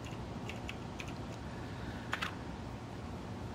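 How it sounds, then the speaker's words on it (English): Someone types a chat command on a computer keyboard, a short run of light clicking keys that ends in one firmer tap, all over a constant hum of background noise. "if you just open up the chat box, you type"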